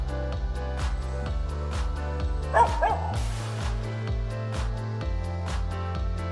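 A dog gives a couple of sharp barks partway through, with a group of cats nearby, set against a steady backdrop of music.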